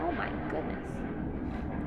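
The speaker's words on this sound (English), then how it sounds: "It's like 4 planes." Several airplanes flying low overhead along a flight path make a steady, broad roaring rumble that fills the whole stretch, with a voice briefly exclaiming over it.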